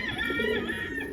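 Frill stencil pigeons, including a black cockbird, give a short low coo with a soft rolling warble, close by over faint background hiss.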